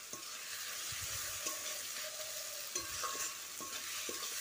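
Onion and garlic fry in oil for a mutton curry, a constant bright sizzle with soft scraping and stirring strokes, fairly quiet and with no voices.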